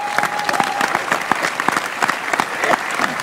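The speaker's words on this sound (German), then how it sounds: "Ich glaube, da gibt es einen Applaus" Studio audience applause on a German Sunday TV entertainment show, a steady dense wash of many hands clapping that carries on evenly for the whole stretch with no talk over it.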